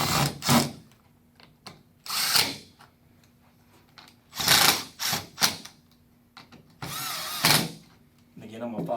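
Power drill driving screws to refasten the door trim on a merchandising cooler with replacement glass, several short whirring bursts spaced unevenly, close and loud, with a faint steady hum between them.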